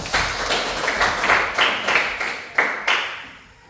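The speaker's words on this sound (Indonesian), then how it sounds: "Tepuk tangan buat noodles" A classroom of students claps for a group about to present, a scattered burst of hand claps with several louder individual claps standing out, fading toward the end.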